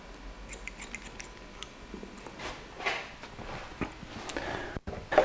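Scissors snipping through wet, saturated hair during a messy-texture haircut on the top of the head, a series of faint, irregular close crisp cuts with soft handling noise between them.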